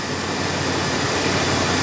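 A Chevrolet LQ9 6.0-liter V8 swapped into an old-body-style truck idles smoothly with a steady, even droning hum and no talking.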